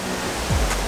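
Steady, dense roar of a waterfall in Bali, heard up close at the bridge leading to it, a continuous broadband wash of falling water with no voices.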